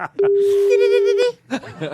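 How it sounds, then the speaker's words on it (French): A single long, steady ring tone on a telephone call sounds for about a second, loud and clear, with brief speech before and after it. "Ça sonne chez Christian Strada"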